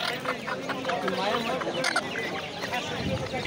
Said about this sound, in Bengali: এখানে রয়েছে সিল্কি মুরগি